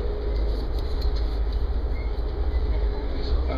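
An Amtrak passenger train rolls along the rails with a continuous low rumble and faint rhythmic clatter, heard from inside a moving coach car.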